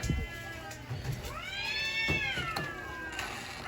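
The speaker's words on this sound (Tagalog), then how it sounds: "nag-ingayan ang mga pusa" A cat's drawn-out, rising and falling meow stands out over a faint background of voices and ambient noise.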